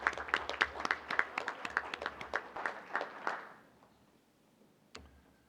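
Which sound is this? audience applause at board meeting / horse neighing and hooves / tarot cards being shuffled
audience applause at board meeting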